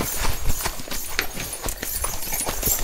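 Close hoof strikes from a horse clip-clop in an uneven rhythm while it climbs the steepest stretch of a hard road in Tayabas, with no talk over them.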